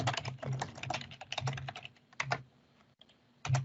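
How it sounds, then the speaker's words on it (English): Fingers type on a computer keyboard in quick bursts of close, crisp key clicks, with short pauses between runs and no talk. "And while I'm typing this"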